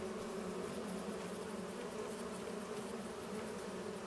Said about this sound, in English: We do have bees.